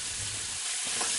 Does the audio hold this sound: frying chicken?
yes